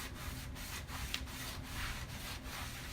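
A rough white rag rubs back and forth over painted furniture in steady, evenly spaced strokes, a soft scratchy swish repeating about every half second, quiet and close, with no talk.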